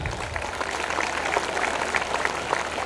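Children in an audience applauding together at a school dais program, a continuous patter of many small claps at moderate level with a low background hum.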